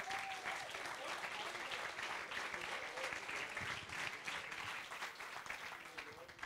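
Audience at a Berlin net-politics evening talk breaks into steady, dense applause, a continuous wash of many hands clapping throughout, with a faint voice briefly audible near the start.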